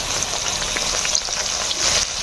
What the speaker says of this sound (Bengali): আমরা এঁচোড়টাকে ভালো করে ভেজে নেব।